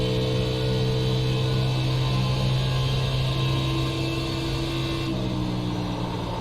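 A race car engine in the iRacing sim at Pocono during a qualifying lap, a loud, steady drone with sustained harmonic whine as the throttle is fed back in, easing slightly in pitch near the end, with no talk.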